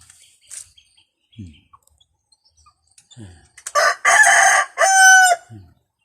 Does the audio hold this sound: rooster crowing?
yes